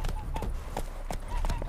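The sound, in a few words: horse Roach's hooves from video game The Witcher 3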